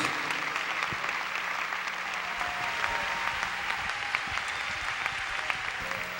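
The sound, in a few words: church congregation applauding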